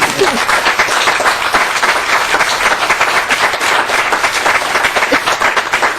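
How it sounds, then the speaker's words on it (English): An audience at a House Legacy Committee hearing breaks into strong, steady applause, many hands clapping densely and evenly for several seconds. "Yeah, we're allowed to applaud."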